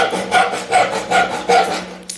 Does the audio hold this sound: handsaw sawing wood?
yes